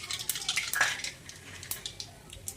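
Mustard seeds go into hot oil in a kadai, giving a scatter of sharp crackles and light metallic clinks that rise in a quick burst and then thin out into sporadic pops, close and alone.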